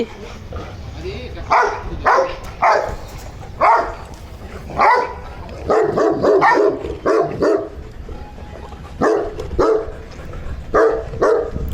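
Two dogs bark close by in repeated sharp bursts and clusters, with people talking over and between the barks.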